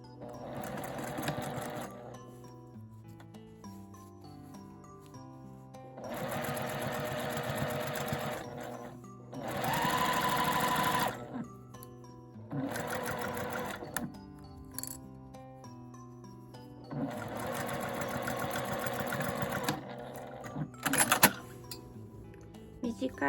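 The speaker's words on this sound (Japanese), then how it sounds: "もう一枚の表布と裏布を中表に合わせて、そこを1センチの縫い代で縫います。" A sewing machine stitches fabric with a 1 cm seam allowance for a quilted phone shoulder bag, running in several bursts of fast rhythmic whirring and needle chatter separated by pauses, with a voice speaking between runs.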